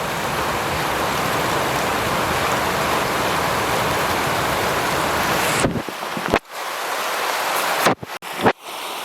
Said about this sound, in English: And the water's fairly gushing here. It's coming off the canal going into the reservoir.